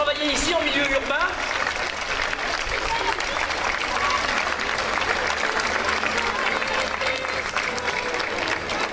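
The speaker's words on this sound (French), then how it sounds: "Je vous demande d'applaudir chaleureusement les oiseaux qui vous ont fait plaisir de travailler ici en milieu urbain." Loud, dense applause from an audience at a medieval festival bird show in Crest, steady and sustained throughout, with crowd noise blended in.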